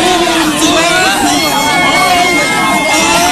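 A huge crowd gathered outside the ICC court makes a loud, dense, continuous babble of many voices, with cheers and whoops rising through it.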